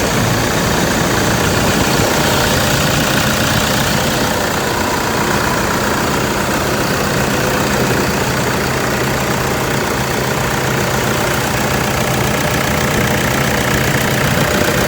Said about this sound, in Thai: ฟังเสียงเครื่องกัน